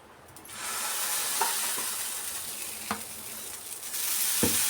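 Onion dosa sizzling on an iron tawa, a steady loud frying hiss with a few sharp scrapes or taps, close up and without talk.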